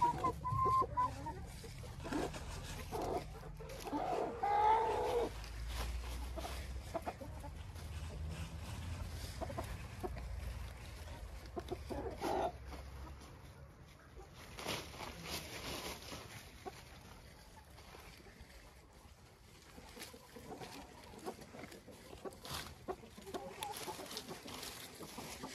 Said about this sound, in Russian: Здесь куры тоже должны гребтись